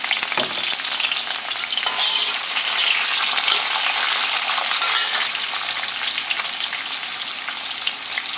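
Vegetables including carrots fry in a mix of onion oil, pork lard and luncheon meat fat for kimchi instant noodles, a steady loud hiss and crackle with stirring, no talk.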